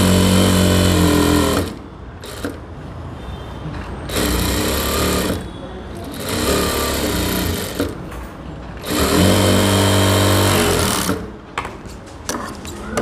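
A sewing machine stitching a blouse runs in loud, steady bursts of several seconds each, separated by short pauses, with the motor whirring close up.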